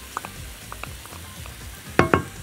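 Meat frying in a pot for Moroccan harira soup as tomato paste goes in, a quiet sizzle with light stirring scrapes and two sharper clatters near the end.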